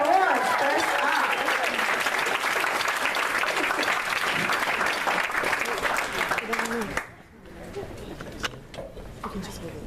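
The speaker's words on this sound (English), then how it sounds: "Let's give them a round of applause." A crowd applauds a startup pitch team at a final pitch event, dense continuous clapping for about seven seconds before dropping off to quiet room noise with scattered voices.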